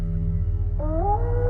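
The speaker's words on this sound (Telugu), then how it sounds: "నక్కల అరుపులు తప్ప ఏ శబ్దమూ లేదు." A lone drawn-out howl, like a jackal at night, rises and bends in pitch over a low rumbling bed, clear and fairly close in an eerie horror-story soundscape.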